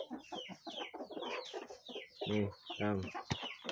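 Chickens, including a Bangkok-descended bird, give a couple of loud, drawn-out clucking calls close by, interrupted by a person talking throughout.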